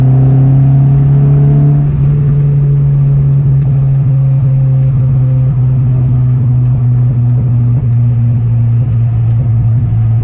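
A Honda Civic engine revving hard during sporty driving, a loud, close, steady droning roar with crackling exhaust pops running through it.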